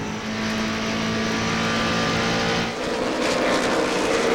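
NASCAR race cars roar around Bristol in a 1996 race, a loud sustained engine drone that dips briefly and then swells again as the pack passes, with no talk.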